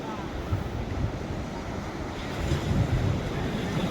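Sea waves washing onto Diveagar beach, a steady broadband surf roar with wind buffeting the microphone, swelling slightly louder toward the end.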